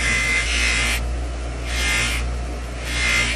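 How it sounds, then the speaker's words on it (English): A spoon ring being polished to a shiny finish on a motorized buffer gives a steady, close electric whir that swells and eases in three bursts, with no talking. "The last step is polishing it to a shiny finish"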